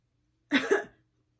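A single short cough, close and clear, followed by silence.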